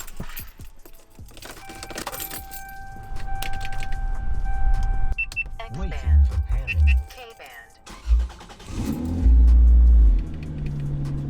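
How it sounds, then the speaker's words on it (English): A Lexus SC300 with a painted body kit: keys jangle and clicks sound, then near the end a loud, deep engine rumble starts close by, with a person talking earlier. "let me show you guys what it's like to start the car"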